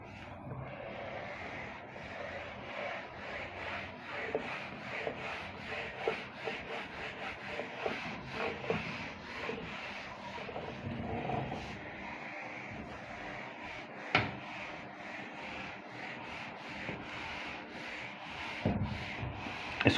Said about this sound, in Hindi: इसको भी रब कर देता हूँ